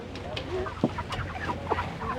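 Cornish cross chickens on a homestead farm cluck close by in short, irregular bursts, with a few sharper calls over a busy, low background.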